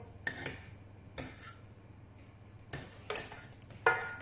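Several scraping, clattering strokes of a spatula working thick choux dough in a saucepan, coming in bursts with quiet gaps between, close and fairly soft.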